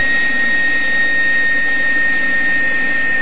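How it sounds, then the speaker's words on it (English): Jet engines of a Fouga 170 aircraft winding down, a loud steady whine with a high piercing tone and broadband roar, constant throughout. "And as the engines begin to shut down,"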